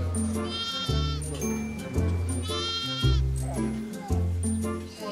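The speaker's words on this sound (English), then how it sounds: "Can you hear the lambs bleating?" Baby lambs bleat repeatedly in a farm pen while drinking milk, several loud, wavering calls coming in bursts close by, with a voice talking over them.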